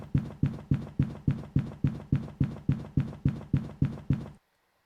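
Rapid, evenly spaced ghost footsteps from a 150-speed shade during a Blood Moon in Phasmophobia, about a dozen heavy thuds in quick succession that stop abruptly, with no talk.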